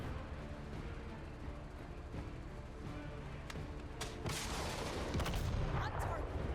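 Heavy indirect fire from a tactical strategy game lands in a rumbling barrage, with distant booms and crackling blasts building toward the end beneath a low, constant battlefield drone.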